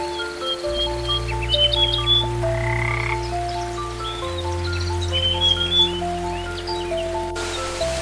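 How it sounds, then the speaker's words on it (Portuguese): Frogs croak in a Panama jungle, several overlapping calls pulsing and repeating at close to moderate distance over a steady background hum of insects and humid night ambience; there is no speech. "Sapos coacham, aves gritam"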